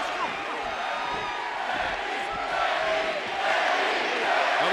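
WWE arena crowd cheering for Becky Lynch as she attacks Stephanie McMahon at a wrestling event, a dense, steady roar that swells louder toward the end.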